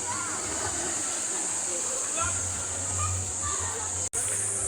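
Water flowing steadily in a stream at Agpay Eco Park, a constant rushing wash with people talking faintly in the background.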